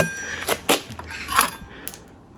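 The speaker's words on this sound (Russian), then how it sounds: "Шайбочка упала." A small metal washer drops during battery contactor work on a 2013 Tesla Model S 60, giving a few faint, quick clinks and taps in a quiet workshop.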